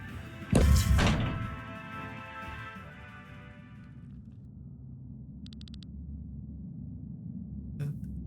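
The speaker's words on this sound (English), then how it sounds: "A Thraz, a smoke bomb." A smoke bomb goes off in Chained Echoes with a single heavy thud and a brief whooshing burst near the start, then a low, quiet hum with a faint chime partway through.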